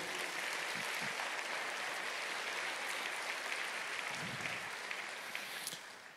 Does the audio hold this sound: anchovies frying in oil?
no